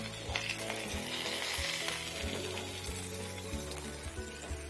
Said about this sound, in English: I managed to put all the stuffs in one dish, in one frying pan.